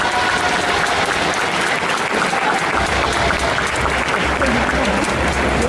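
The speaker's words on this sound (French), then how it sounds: "On peut l'applaudir bien fort." A crowd applauds a contestant at an indoor cosplay contest during a festival, the clapping steady, dense and loud throughout, with some voices mixed into the crowd.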